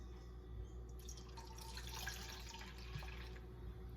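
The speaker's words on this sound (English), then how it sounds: "And now we're going to add the warm milk." Warm milk is poured into a bread dough mixture for English muffin bread, making a steady liquid trickle with light splashing and dripping close by, with no voices.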